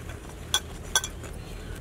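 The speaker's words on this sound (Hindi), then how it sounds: "पूरा मिक्स करना।" Pancake batter with baking powder mixed in a bowl: quiet scraping under soft background hiss, broken by two sharp clinks of a utensil striking the bowl's rim.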